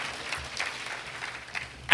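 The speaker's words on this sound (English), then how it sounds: "Let's get one more round of applause for Andrea." Steady clapping from a crowd at a school graduation ceremony, a dense, even patter of many hands throughout, swelling slightly louder at the very end.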